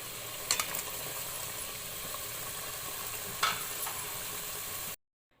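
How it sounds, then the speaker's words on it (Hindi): Tomato masala of peeled tomatoes being sautéed in oil, giving a steady, dense sizzle throughout with a couple of brief spoon clinks near the start and one near the end, then sudden silence. "इतना भूनेंगे कि इसका ऑयल सेपरेट हो जाए"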